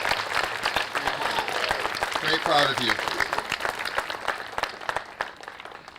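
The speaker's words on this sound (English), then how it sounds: "One more round of applause," An outdoor crowd at a Pride flag raising in Mansfield, Massachusetts claps steadily throughout, a dense patter of applause beneath a voice speaking over it, tapering off toward the end.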